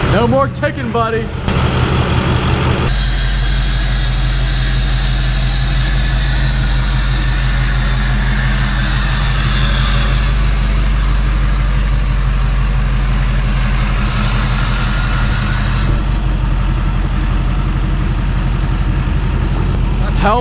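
A truck engine idles steadily after repair work, a low continuous rumble running for about twenty seconds while people talk nearby.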